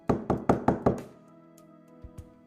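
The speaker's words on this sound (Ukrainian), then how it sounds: "Ой, ви чуєте, хтось стукає?" Five quick, solid knocks on a wooden door in an even rhythm, then a pause and two faint taps.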